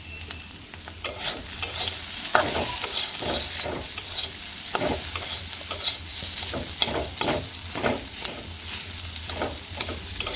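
Green chilies with salt and chili powder fry in a pan while being stirred, a steady close sizzle broken by repeated scraping strokes of the spoon at an uneven rhythm, with no talking.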